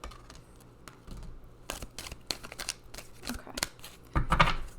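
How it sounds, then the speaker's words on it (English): Deck of oracle cards being cut by hand, with quiet, close paper riffles, taps and slides coming in short bursts, ending in a slightly louder shuffle. "We're going to cut the deck."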